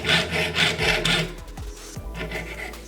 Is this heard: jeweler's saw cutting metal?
yes